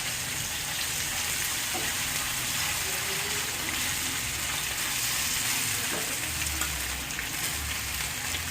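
Soybean mince, boiled and chopped beforehand, sizzling and frying in a hot pan, a steady broadband crackle running the whole time with occasional stirring scrapes, close and alone.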